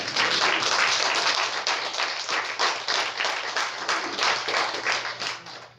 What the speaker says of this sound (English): Shall we give Him the round of applause?